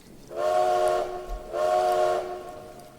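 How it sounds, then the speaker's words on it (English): A train whistle sounds two long, steady, tonal blasts with a short gap between them, loud and clear over a low rumble, with no voices. "you hear another train whistle"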